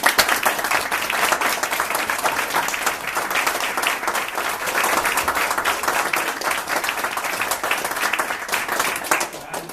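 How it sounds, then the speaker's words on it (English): Mums and dads clap for their young children after a nursery performance, a continuous close crowd of hand claps with crisp individual slaps, sustained at an even level for about ten seconds. "our mummies and daddies give you a round of applause"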